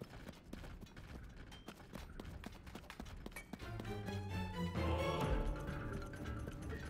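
Horse hooves in the video game Zelda: Tears of the Kingdom clop in a steady rhythm at a walking pace, then give way to a louder swell of tonal sound, fairly quiet overall.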